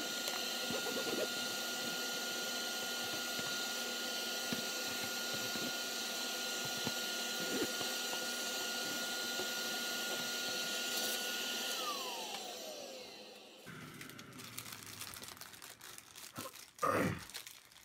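A vacuum cleaner runs over the stained body of a DIY EVH-style electric guitar kit, a loud, steady whine for about twelve seconds that then winds down, followed by close crinkling and handling noises.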